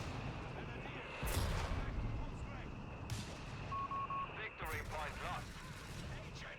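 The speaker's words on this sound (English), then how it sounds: "And now an airburst barrage coming in on this MG42." An airburst artillery barrage strikes in the WWII strategy game Company of Heroes 3: three heavy explosive bursts land a second or two apart amid ongoing battle noise, with a short beeping tone between them.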